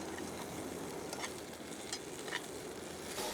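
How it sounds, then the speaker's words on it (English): Food sizzles in a pan on a camp stove at a solo backpacking campsite. A steady, close crackling hiss carries on throughout, with faint stirring clicks and no voices. "The sound of sizzle."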